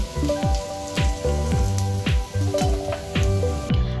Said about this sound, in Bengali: যে তেলে কোফতাটা ভাজা হয়েছিল সেই তেলেতে এবার আলুগুলো ভেজে নিচ্ছি।